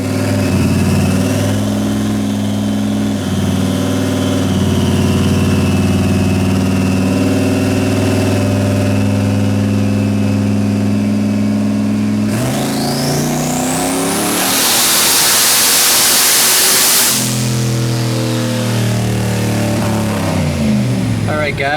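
A tuned car engine on a dyno, idling steadily, then revving hard in a loud rising pull that peaks and drops back to idle near the end, with brief voices in the background.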